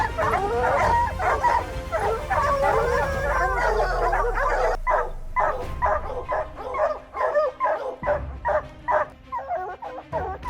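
Bear-hunting dogs bark, yip and howl together in a loud, busy chorus that runs continuously. Around the midpoint the sound shifts to sharper, separated barks.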